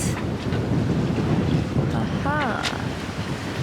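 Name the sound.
sailboat sailing offshore in wind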